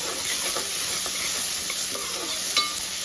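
Ingredients for a fish curry fry in a pan with a steady soft sizzle and hiss, with occasional light scraping of a spatula close by.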